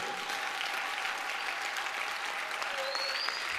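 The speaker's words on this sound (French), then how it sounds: "Applaudis très bien pour les rois des rois" Steady applause from a church congregation fills the whole stretch at an even level, with faint voices and a brief high tone mixed in near the end.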